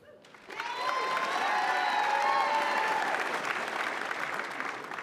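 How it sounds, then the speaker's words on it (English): An awards ceremony crowd breaks into sustained applause, loud and dense with scattered whistles, rising quickly and holding steady with no talking over it. "that applause is for the person I'm introducing"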